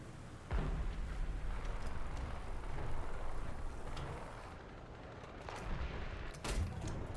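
Gunfire in a military vehicle combat video game: sharp, loud shots and booming reports that crack out over a constant rumbling background, with a couple of heavy blasts standing out near the end.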